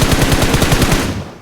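MK14 rifle firing in a shooting video game, a rapid burst of about a dozen loud close shots in quick succession that fades out at the end, no talking.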